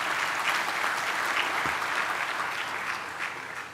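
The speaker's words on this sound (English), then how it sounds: "Another applause is in order." Sustained applause from a seated crowd at a university autumn graduation ceremony in Gqeberha, a dense, steady clapping that fills the hall and begins to fade toward the end.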